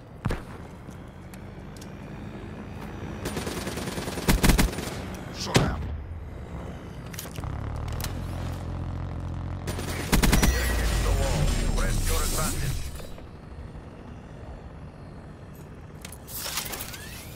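Gunfire in the first-person shooter game Black Ops 3, scattered sharp shots and short bursts mixed with impacts, footsteps and mechanical clatter, moderately loud within a busy battle soundscape.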